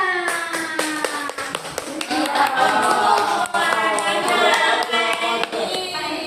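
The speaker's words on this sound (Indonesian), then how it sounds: "tepuk tangan." Classroom clapping by a group of students, with distinct, fairly close hand claps mixed under people talking.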